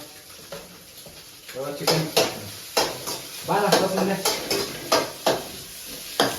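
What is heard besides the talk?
chicken being stir-fried and mixed in a pan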